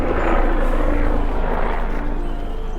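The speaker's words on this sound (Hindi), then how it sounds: "और आप देख सकते हैं कि यहाँ पे हेलीकॉप्टर मस्त आ रहे हैं।" Helicopter flying near Kedarnath in sunny mountain weather, a steady, loud rotor and engine roar filling the whole stretch without breaks, with no speech over it.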